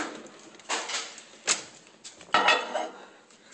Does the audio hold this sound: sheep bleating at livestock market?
no